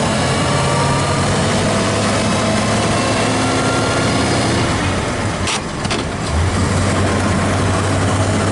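A 1927 Elcar vintage car engine runs steadily while driving, a loud continuous mechanical drone with a low hum that briefly dips around a gear change before settling back, with no talking.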